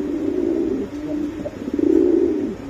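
A Turkish pigeon coos in low, rolling, throaty phrases, close and fairly loud, with a brief dip between calls before a fuller coo swells near the end.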